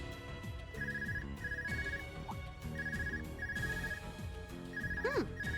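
A phone ringtone from the video game Trails of Cold Steel II repeats as a short beeping tone in a regular rhythm over busy game music, fairly faint, with a brief chirpy effect near the end.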